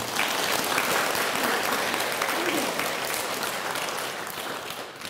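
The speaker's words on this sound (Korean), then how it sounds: "박수 한번 크게 쳐주시죠." Loud, dense applause from an audience at a Buddhist dharma lecture, a sustained wash of many hands clapping together for about five seconds before tapering slightly at the end.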